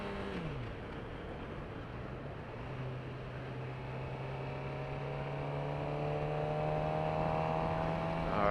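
A 2018 Suzuki GSX-R 600 motorcycle engine drones steadily while cruising in sixth gear, its pitch easing upward and growing slightly louder as the bike builds speed, with a constant rush of wind underneath.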